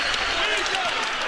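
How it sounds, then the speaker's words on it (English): A basketball arena crowd on its feet cheering for the Iowa State Cyclones late in an NCAA men's game against Marquette, a dense continuous roar with clapping mixed in throughout. "this crowd on its feet trying to help the Cyclones here"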